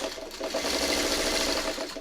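A sewing machine runs continuously for a couple of seconds, a steady rapid mechanical whirring and clatter at close range with no talking.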